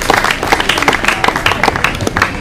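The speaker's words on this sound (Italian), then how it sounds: "Un applauso, forse solamente." Audience applause at a Festa dell'Unità political gathering in Pescara: dense, steady clapping from a crowd, loud and close, continuing for a couple of seconds without a break.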